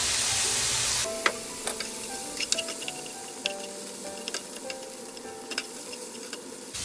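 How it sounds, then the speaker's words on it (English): Noodles stir-frying with soy sauce in a pan: a steady sizzle at first, then scattered scraping clicks and taps of a utensil stirring and breaking up the noodles, close and fairly quiet. "we'll continue stirring these and breaking them down a little bit more"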